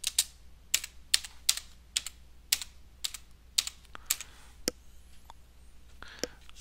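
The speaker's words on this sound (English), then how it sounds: "Then type the desired text in the text box." Close, crisp keystrokes on a computer keyboard as text is entered in a word processor, about a dozen evenly spaced taps in a steady rhythm, clear over a quiet background with no voices.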